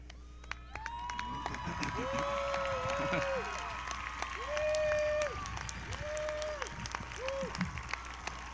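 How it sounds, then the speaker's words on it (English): A seated audience at a Santa Monica College ceremony applauds the faculty and staff, with steady clapping through the whole stretch and a few voiced whoops and shouts rising above it. "Please join me in giving a round of applause to this group of dedicated individuals who have been your teachers, mentors, and friends."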